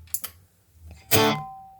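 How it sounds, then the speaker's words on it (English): Electric guitar played through a Tonex with reverb and delay switched on: a couple of soft footswitch clicks, then a single strummed chord rings out loud and close, its echoing tail slowly fading. "This is reverb and delay on and off"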